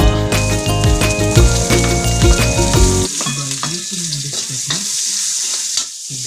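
Lomi ingredients sauté in a hot pan with loud, steady sizzling and frying crackle, while a utensil stirs and scrapes with rhythmic clinks, softening after a few seconds to a lighter sizzle.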